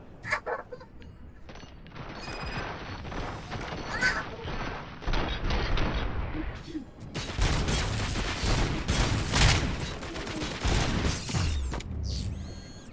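Gunfire in RoboCop: Rogue City, bursts of shots and mechanical clatter building from scattered reports into sustained, dense firing over the second half, loud and close with a rumbling low end.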